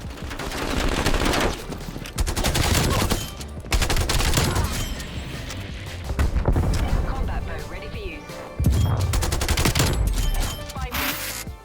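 Rapid gunfire in a PC first-person shooter running at 4K with maxed settings on an i9-12900K and RTX 3090, loud sustained bursts of automatic fire with brief pauses, mixed with game effects and some talk throughout.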